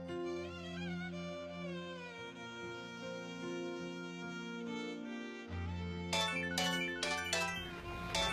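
A phone ringtone plays a steady electronic melody, continuing without pause, with bright tinkling chimes toward the end. No one speaks.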